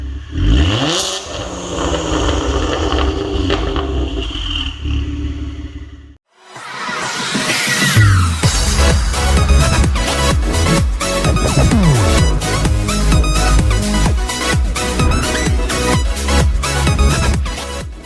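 An older Kia Stinger engine with a Junbiel titanium variable exhaust revs up sharply, then rumbles and crackles loudly and close by at a steady pace, with no voices.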